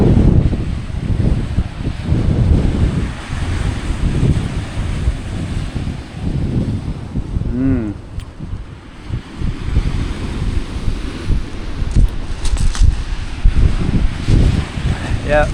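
Rough surf washes over a cobbled beach in Suffolk under heavy wind buffeting the microphone, a loud rumbling wash with gusty swells, and a voice briefly talks over it.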